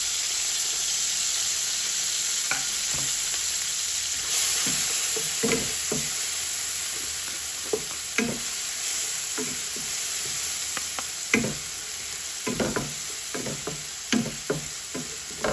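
Garlic sizzles steadily in hot margarine in a wok for fried rice, with repeated scraping and knocking of a spatula stirring it, the clatter coming in irregular bursts over a constant hiss.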